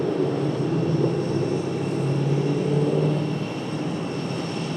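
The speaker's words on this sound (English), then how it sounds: "American Airlines 2379 off to Charlotte. A321" American Airlines Airbus A321 departing Raleigh-Durham for Charlotte, a sustained jet engine roar with droning tonal hums that swell slightly, heard from a distance with no speech.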